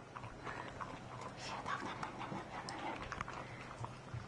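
Maltese puppies lick and lap at a food bowl nearby, a busy run of small wet licks and panting with faint scuffing, close and fairly quiet throughout.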